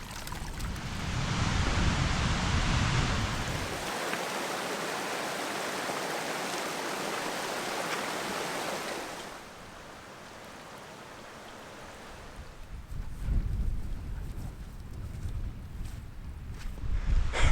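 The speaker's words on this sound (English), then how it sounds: "I can definitely feel the winds picking up." Strong mountain wind roars loudly and steadily, a broad rushing noise that drops to a quieter blustery hiss partway through before gusting up again, with no talking.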